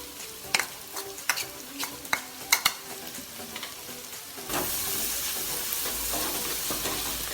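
Onions with ginger garlic paste stirred in a frying pan for Kerala beef curry, a spoon scraping in sharp irregular knocks before a steady loud sizzle takes over.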